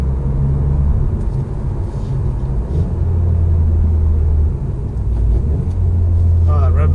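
A 2019 Honda Civic Type R hums and rumbles from inside the cabin while driving, its engine note rising and falling with rev-matched downshifts, under someone talking.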